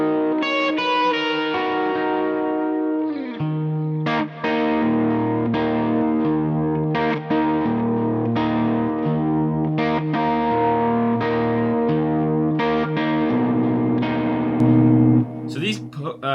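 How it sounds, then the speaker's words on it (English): Gibson electric guitar with 57 Classic humbuckers playing a sustained, gently overdriven melodic line through a compressor, digital delay and reverb, notes ringing into each other with shimmering echoes for the whole passage, no voices. "I've got a compressor at the front, just giving it a little bit of a level boost, and then I've got a nice kind of digital delay and reverb patch"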